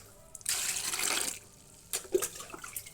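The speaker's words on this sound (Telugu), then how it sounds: "కాయలన్నీ మునిగేలాగా వాటర్ పోసేద్దామండి." Water poured into a large bowl over vegetables, a full splashing gush lasting about a second, then smaller splashes and trickles as the pouring tapers off.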